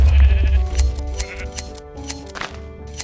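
Video game sheep bleat in a few short, clear calls over a low background music bed, the bleats loud and close with brief gaps between them.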